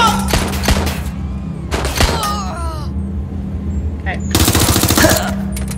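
Gunfire in Watch Dogs Legion: bursts of rapid shots in three loud clusters near the start, middle and end, with quieter gaps between them and a steady low game hum underneath.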